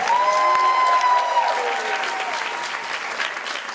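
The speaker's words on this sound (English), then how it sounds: "One more round of applause for our Spirit Award winners" Applause from a graduation ceremony crowd at Fremont College honoring Spirit Award winners, steady and dense throughout, with a sustained tonal whistle or ring near the start before the clapping gradually tapers slightly.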